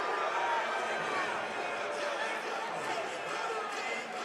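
Chattanooga basketball crowd during a college game against Wofford: a continuous wash of distant cheering and chatter at moderate level.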